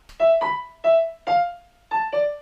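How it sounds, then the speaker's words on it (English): Six bright piano notes struck one after another in a short, uneven melody, each ringing briefly before decaying, with no voices. "Later in the song, I have a piano."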